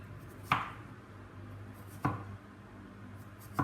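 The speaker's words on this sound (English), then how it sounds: "cut your pears into these segments, you can cut them up into smaller pieces" A knife chops pears into pieces on a board, three separate sharp cuts spaced about a second and a half apart, close and clear against a quiet room.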